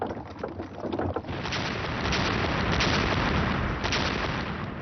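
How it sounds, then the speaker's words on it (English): Soviet artillery barrage on the Eastern Front in 1943, a dense continuous rumble of distant guns with muffled booms blending into a roaring wash, heavy and low. "Huge Soviet artillery barrages and tank assaults were shredding the German lines."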